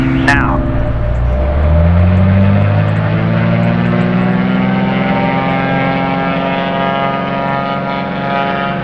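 A Beechcraft Bonanza's propeller engine runs up from idle on the ground, its pitch climbing into a loud, steady droning hum with strong harmonics, held at high power throughout.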